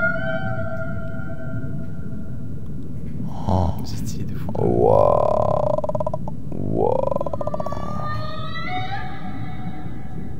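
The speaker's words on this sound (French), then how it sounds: "j'entends des sons de baleines et tout" Whale vocalizations rise and fall in long, eerie moaning sweeps over a low ocean rumble, with brief excited exclamations from a listener between the calls.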